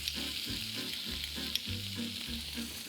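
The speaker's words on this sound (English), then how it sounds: "I want to sear the shrimp" Shrimp sear in hot olive oil in a pan for a Greek dish, a continuous close sizzle and crackle with a low rumbling hum underneath and no talking.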